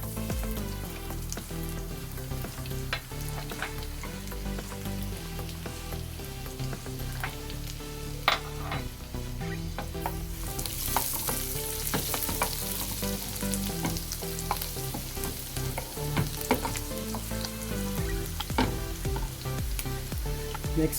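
Garlic sizzles steadily in a hot pan as the first step of a tomato-based chicken menudo, with a dense, continuous frying hiss and occasional stirring clatter. No one speaks.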